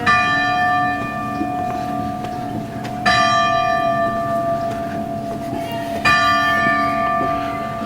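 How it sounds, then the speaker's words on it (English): Church bells ring loudly and steadily, with fresh peals striking about every three seconds over a sustained, resonant hum of overlapping tones. "You love the church bells, don't you?"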